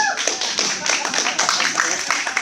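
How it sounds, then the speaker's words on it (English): A comedy crowd at a Canyon Lake, Texas show claps steadily in a dense, continuous patter of many hands, close and lively, with voices mixed in. "Y'all give yourselves a round of applause for coming out here to God knows where."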